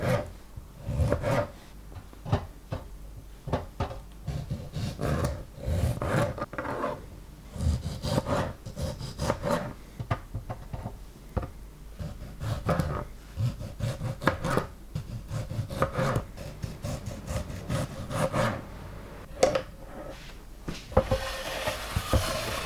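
A knife slices washed tomatoes on a cutting board, giving a quick series of soft, irregular cuts and board taps, close and fairly quiet with no talking.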